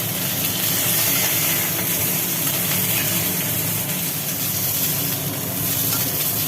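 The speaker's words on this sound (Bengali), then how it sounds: "এখন পটল ভাজার কাজ চলছে" Pointed gourd (potol) frying in hot oil in a home kitchen, a steady, dense hiss and sizzle that runs unbroken and fairly loud from start to finish.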